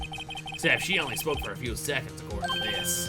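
A telephone rings in the Phoenix Wright: Ace Attorney video game, with a short, repeated electronic ring pattern at the opening. Speech takes over and runs through most of the rest, along with game sound effects.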